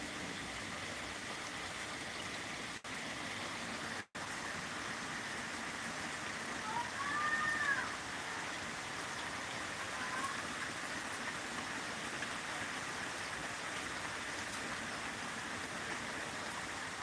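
Steady rain falling outdoors beside a pond, a continuous broadband hiss of drops across the whole stretch, with a couple of brief dropouts and faint bird chirps partway through.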